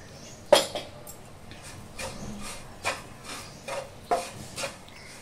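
Coarse rice grits roasting in ghee in a pan, stirred with repeated scraping strokes and soft knocks against the pan in an uneven rhythm, close and fairly quiet with no speech.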